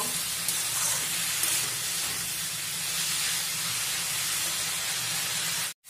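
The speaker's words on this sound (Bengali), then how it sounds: "ভালো মতন তরকারিটাকে এখন কষিয়ে নেব।" Bean, potato and eggplant curry with tomato sautéing in a pan gives a continuous loud hiss and sizzle of steam and oil, close and steady throughout before cutting off abruptly.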